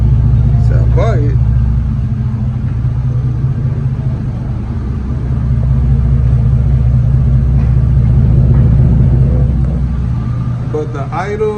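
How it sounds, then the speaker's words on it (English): A 1988 Monte Carlo SS with an LS engine swap idles very low, a steady deep rumble running throughout beneath occasional nearby talking. "But the idle is low, super low."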